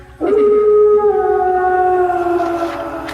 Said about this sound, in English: You hear wolves howl in the distance.